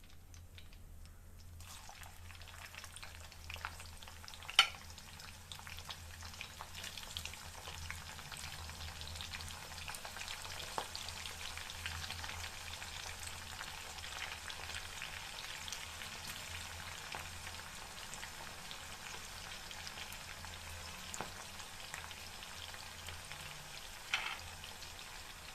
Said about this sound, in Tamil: இப்போ நம்ம வெங்காயத்தை சேர்த்துக்கலாம்.